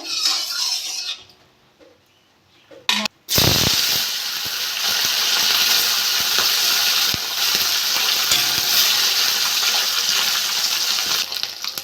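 Parshe fish in hot mustard oil: after a quiet start and a sharp clatter, a loud, dense sizzle bursts up and carries on steadily, with faint scattered crackles and ticks.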